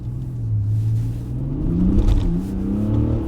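An Alpina D5 BiTurbo roars up through the revs while pulling away to warm its tyres, with a deep, close, steady rumble whose pitch climbs and shifts across the gears and no voices.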